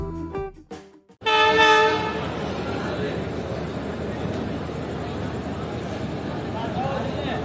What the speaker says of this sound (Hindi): तो ये आ रही है 146 डाउन सक्खर एक्सप्रेस रोड़ी जंक्शन के प्लेटफॉर्म नंबर 2 पर